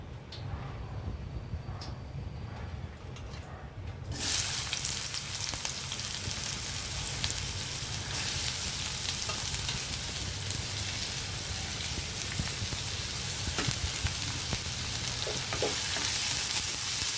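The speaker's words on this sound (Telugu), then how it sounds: "ఆయిల్ హీట్ అయ్యాక మనం ముందుగా ఉల్లిపాయలు ఫ్రై చేసుకుందాము" Onions fry in hot oil in a kadai with a steady, loud sizzle that jumps up sharply after a quiet start and then holds. A few faint stirring clicks come through the sizzle, and no one speaks.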